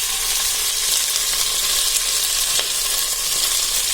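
Mixed vegetables such as broad beans, okra and bitter gourd sautéing in a pan for a 21-vegetable kuzhambu, a loud, close, continuous sizzle with faint stirring scrapes and no talk.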